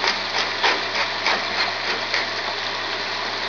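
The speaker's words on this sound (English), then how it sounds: "A good grind in the pepper mill." A pepper mill grinding pepper over a stuffing mix with bacon, giving a steady dry crunching rasp with small rhythmic surges as the mill is turned, close and fairly loud.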